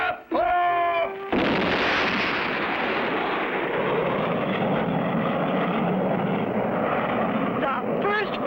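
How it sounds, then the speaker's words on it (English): Cartoon rocket ship launching toward the moon: a short electronic countdown tone gives way to a loud, sustained roaring whoosh of rocket blast that fills the clip and fades slightly at the end. "Then came the final countdown. 2, 1, blast off!"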